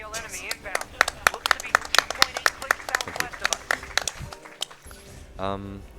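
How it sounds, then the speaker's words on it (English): Scattered applause from a small audience at a speedrun event, sharp individual claps in an irregular rhythm, with a brief voice near the end. "Please clap, please."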